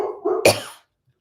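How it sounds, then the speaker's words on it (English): A pet dog lets out a single hoarse, short bark indoors at a delivery man at the door, a close rough yelp that cuts off abruptly into silence. "She is barking at the FedEx man"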